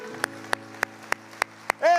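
A church congregation claps sharply in a steady, even beat, about three per second, over sustained musical tones.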